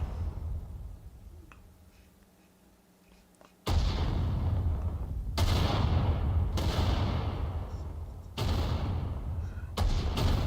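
Artillery bombardment during a Total War: Rome 2 multiplayer battle, a few heavy booming impacts spaced a second or two apart, loud and close, over a low battlefield rumble with faint voices.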